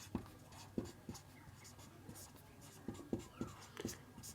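Chalk or marker writing on a board during a classroom lesson, a series of sharp tapping strokes and short scrapes spaced irregularly, quiet and close, with a teacher's voice faintly heard between them.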